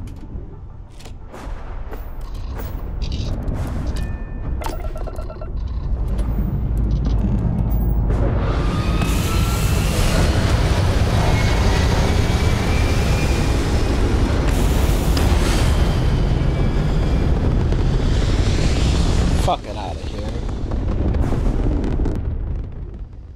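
A spaceship lifting off in the Starfield video game, a sustained loud roaring rumble of engines and thrust that builds and holds at full strength, then eases briefly and returns, with no voices over it.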